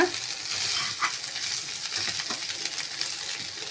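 Raw banana masala (vazhakkai varuval) is stirred in a pan, giving soft scraping and clinking of a spoon against metal over a faint sizzle, with no talk.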